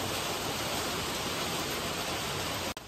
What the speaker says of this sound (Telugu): బయటకు వచ్చి చూస్తే కంటిన్యూస్గా పడుతూనే ఉంది వర్షము